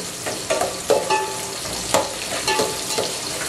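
Onions frying in oil in a pot for a Mysore-style country dish, a steady sizzle broken by repeated scraping and stirring strokes, close and alone without talk.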